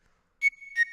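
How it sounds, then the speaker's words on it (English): A soft flute-like synth tone in a future bass track plays two breathy notes over a sustained pitch that rings on with reverb, brief and fairly quiet, with no voices. "I added this like little flute sound"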